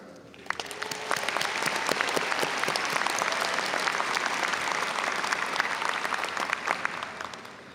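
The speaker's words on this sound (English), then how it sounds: "Please join me in a round of applause" Applause from a commencement audience for graduates, a broad round of many hands clapping that swells in, holds steady, and tapers slightly, heard from within a large hall.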